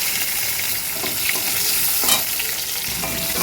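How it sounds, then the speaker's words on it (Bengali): Mango pieces fry in hot oil with kalonji in a pan, a continuous close sizzle broken by scraping strokes of a spoon stirring them. "আমটা একটু সামান্য ভেজে নেবো"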